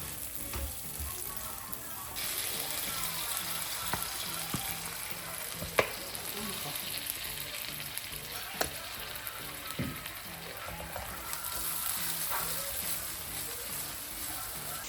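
Spice paste with bay leaves, lime leaves and lemongrass bubbles and sizzles in a pan, a steady crackling hiss with occasional sharper pops, heard alone at moderate volume.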